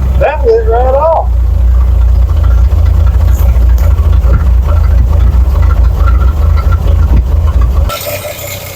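An old Chevy truck engine runs at a steady, loud, low idle, sounding cold and uneven as if firing on five cylinders, with a brief squeal early on before the rumble drops near the end.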